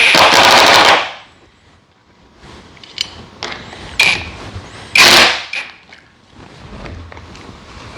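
A power drill drives screws into a quick change flush mount, giving a loud burst of whirring at the start, then quieter mechanical handling sounds and a second short, loud burst of driving.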